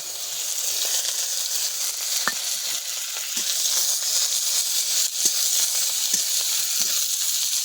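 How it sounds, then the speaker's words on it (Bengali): Neem flowers fry in a generous amount of mustard oil, giving a strong, steady sizzling hiss close by, with a handful of faint clicks from a stirring utensil; no talking. "নিম ফুল ভাজবো সর্ষের তেলে"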